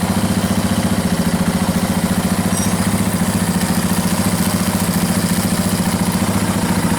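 A KTM 690 Enduro single-cylinder motorcycle engine idles in first gear with the clutch pulled in, a close, loud, even rapid thumping pulse with a steady mechanical whir over it and no talk.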